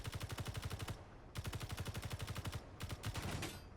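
Rapid automatic fire striking a shield in Space Engineers comes in three loud bursts of evenly spaced shots, split by short pauses.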